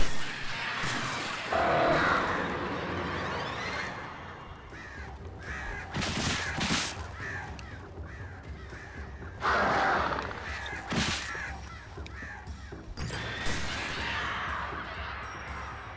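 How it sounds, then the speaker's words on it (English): Crows caw repeatedly in the Alan Wake video game on a mountain, harsh calls arriving in bursts over a dense ambient game soundscape with occasional louder crashes. "The crows get me on the mountain."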